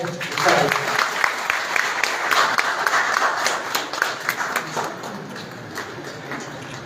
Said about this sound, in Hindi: ताली पाड़े सभी के